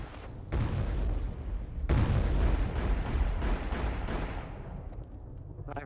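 Gunfire in a Call of Juarez online skirmish on Xbox 360: a heavy booming shot, then a second louder blast followed by a rapid series of sharp reports that ring out and fade, with no talking.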